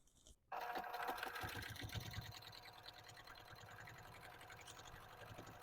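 A sewing machine stitches in the ditch around the edge of a long double potholder, its motor whirring in a steady, close, continuous run after a brief quiet start.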